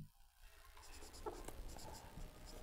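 Pen or marker writing out a grammar rule for the present perfect continuous tense, a steady scratchy stroke running continuously with a few brief taps, close and fairly quiet, no talking.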